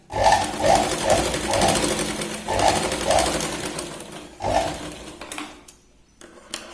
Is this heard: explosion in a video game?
no